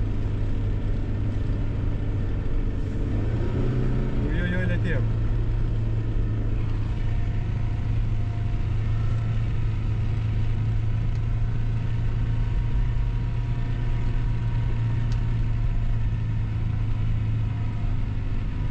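Car engine pulling through deep snow in low-range third gear during a blizzard, a steady loud droning rumble from inside the vehicle for the whole stretch, with a brief rising note early on.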